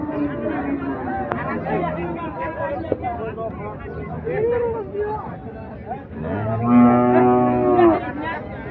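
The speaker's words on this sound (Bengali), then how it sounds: "আমরা এখানেও দেখছি এক জোড়া শাহিওয়াল, বেশ হাই পার্সেন্টেজের শাহিওয়াল" Sahiwal bulls lowing at a busy cattle market held before Qurbani, deep moos rising near the end over a constant background of crowd chatter and babble.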